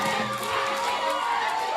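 Stadium crowd at a Bahia versus Guarani football match roaring and applauding as substituted player Eric leaves the pitch, a dense, sustained wash of cheering with a commentator talking over it.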